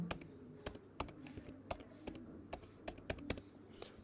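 A phone number is typed on a computer keyboard: a short run of quiet, close, irregular key clicks against a low room hum.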